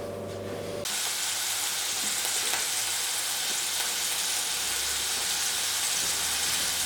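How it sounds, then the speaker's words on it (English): Salisbury steak patties of ground meat browning in a large frying pan, giving a steady, close, continuous sizzle and crackle of frying fat, with no talking. "So now what I want to do is I want to brown both sides of the meat,"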